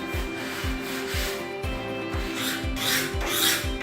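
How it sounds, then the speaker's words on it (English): Rhythmic scraping as a knife blade or file is drawn along a 45-degree angle over the trimmed edge of a replacement kitchen countertop, repeated strokes at a steady pace, close and fairly loud with no talking. "Knife blade, or if you're using a file, on a 45-degree angle, so you're just cleaning the edge up a little bit."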